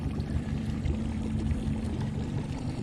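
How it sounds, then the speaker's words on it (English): A hooked trout thrashes and splashes at the surface of a river in winter, a steady churn of water sound close by with no talk over it. "Oh, he's thrashing. He's splashing."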